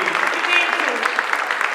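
Audience at a caftan fashion show in Italy applauds the designer and models, steady close applause from a crowd with a voice talking over it.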